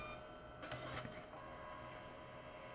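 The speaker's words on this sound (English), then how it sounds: "Then it'll take it back through to the back of the printer again," A Canon CP-200 dye sublimation photo printer pulls its paper back through the mechanism, giving a steady low mechanical whir with a short burst of clicking and rattling near the middle, fairly quiet and with no talk.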